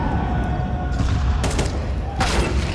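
Gunshots in a Counter-Strike esports match, a few short cracks and thuds mixed into steady broadcast noise and commentary.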